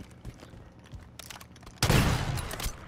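Call of Duty gunfire: faint game noise and scattered distant shots give way to a loud, sustained burst of close gunfire and rumbling impact that carries on to the end.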